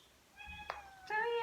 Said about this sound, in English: You've got a cat flap to go outside, Layla.